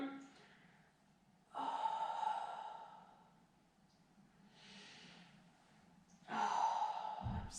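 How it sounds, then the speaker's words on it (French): During a gentle chair pilates session, two deep audible breaths rise and fall slowly, each a long soft sighing exhale, with quiet pauses between them. "encore 5 grandes respirations"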